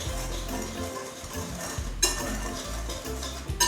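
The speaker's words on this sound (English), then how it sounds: "We'll whisk this together." Whisk stirring dry cornmeal and salt for hoe cakes in a bowl, steady scraping and light metallic clinks with a couple of sharper taps against the rim, close and fairly quiet with no talking.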